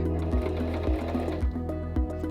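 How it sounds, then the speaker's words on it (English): A SINGER M3200 sewing machine stitches forward through fabric, a close, steady mechanical whir with a regular, rhythmic needle thump about twice per second, with no voices. "Release the reverse lever and sew forward again to the end of the fabric."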